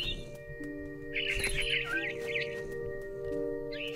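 Birdsong in the video game What Remains of Edith Finch: a few bright chirps and short tweeting trills over a steady tonal music bed, moderately clear and close.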